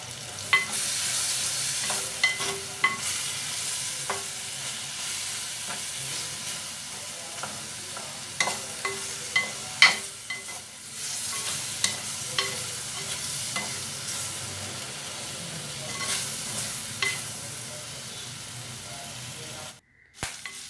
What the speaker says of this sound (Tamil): வெட்டிய வெங்காயத்தை சிக்கனோட சேர்த்து புரட்டி விடுங்க.